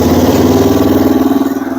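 A Yamaha 225DR trike engine, left sitting for a while, runs at a steady, loud, close idle with an even low throb and no talk over it.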